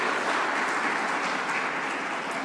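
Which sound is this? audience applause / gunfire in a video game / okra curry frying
audience applause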